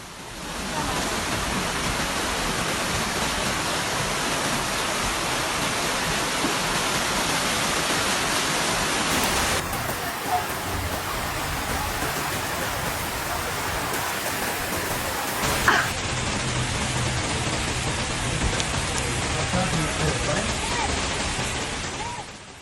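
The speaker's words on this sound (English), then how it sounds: "Heavy rains, the remnants of Storm Gabrielle, have lashed the island in the Balearics since Monday night into Tuesday morning" Heavy rain from the remnants of Storm Gabrielle lashing the Balearic island of Ibiza, a dense continuous downpour roaring evenly throughout, loud and close with no voices.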